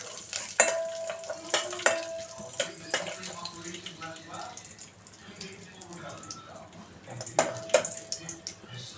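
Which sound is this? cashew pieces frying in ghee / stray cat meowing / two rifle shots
cashew pieces frying in ghee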